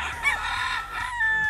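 A rooster penned with a hen crows and clucks in quick, close, clear calls, with a short rising note near the end.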